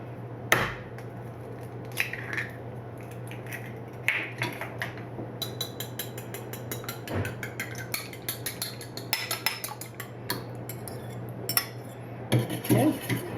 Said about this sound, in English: I'm going to break the eggs in the dish that held the butter